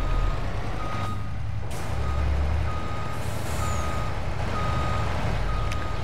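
Farm truck hauling corn and beans reverses, its backup alarm beeping in a steady repeating rhythm over a loud, constant engine rumble and air hiss close by.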